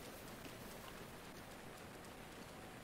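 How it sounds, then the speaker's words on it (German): Soft, constant rainfall in The Legend of Zelda: Breath of the Wild, a faint, even hiss of drops with no voices over it. "Oh, hier regnet's."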